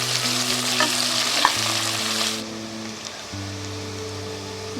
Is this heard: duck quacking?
no